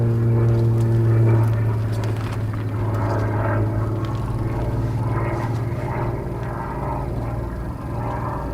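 Propeller aerobatic plane powering up into a vertical climb during an advanced free unknown competition sequence, a steady droning engine with harmonic tones that swell and ease slightly, continuous and fairly close throughout.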